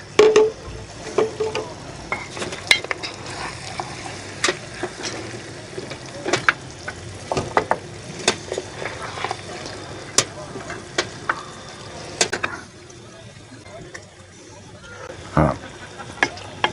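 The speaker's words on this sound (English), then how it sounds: "Got my spoon down here. Let's serve it up, eh?" A spoon scrapes and clinks against a pot while food is served at a campfire, with repeated sharp metallic taps over a steady sizzling bed and some quiet background talk.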